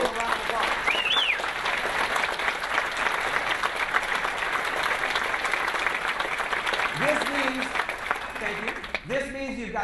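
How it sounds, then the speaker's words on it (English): Sustained, even applause from an audience at a business opportunity meeting runs the whole length, with a voice speaking over it near the end. "Let's give a round of applause."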